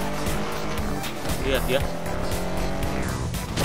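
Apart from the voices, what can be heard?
reckless cars driving with tires squealing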